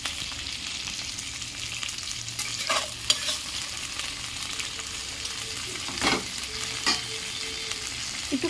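Capsicum and tomato frying in a pan with a steady sizzle, a spoon stirring through it with a few scraping knocks against the pan; no voices.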